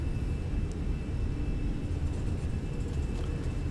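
An airliner's engines roar up for takeoff in Microsoft Flight Simulator, a steady heavy rumble with a broad whooshing hiss and a thin high whine, continuous and loud from start to end.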